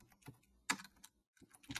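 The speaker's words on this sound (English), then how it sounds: "Terrible at typing today" Quick bursts of typing on a computer keyboard, clustered key clicks in uneven rhythm with a brief pause midway, close and moderately loud.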